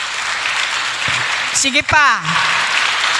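An audience at a teen vacation Bible school gathering claps in steady, continuous applause while a voice speaks briefly over it.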